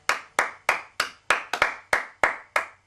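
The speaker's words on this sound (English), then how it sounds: "thank each one of you for clapping" Nine sharp hand claps, slow and evenly spaced, close by and fairly loud, with no voices.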